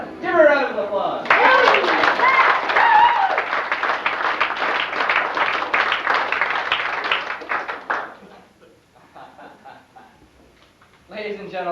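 Aboard a cruise ship, an audience bursts into lively clapping and cheers for several seconds after a brief voice, then the applause fades out to near quiet before talk resumes.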